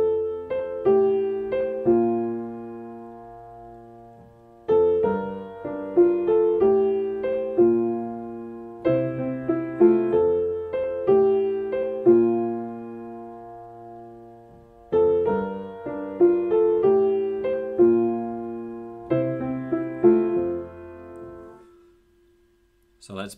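Piano loop from a song played alone, with repeating chord phrases and a melodic right hand cycling in steady, moderately quiet passes that fade out at the end.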